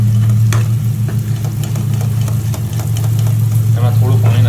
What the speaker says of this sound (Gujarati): છે સરસ મજાનો શેકાઈ પણ જાય ગ્રેવી